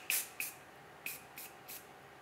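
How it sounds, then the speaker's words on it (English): Glass cleaner sprayed onto a NOx sensor on a bench, a few short hissing spray bursts, the first two strong and later ones softer, close and fairly quiet against a faint background. "If I spray some of this glass cleaner on it,"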